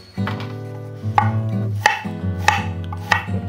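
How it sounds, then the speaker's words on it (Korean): A knife cuts an onion in half on a cutting board while preparing Japanese-style curry rice, giving four sharp, close knocks spaced about two-thirds of a second apart over steady background music. "먼저 양파를 반으로 자르고"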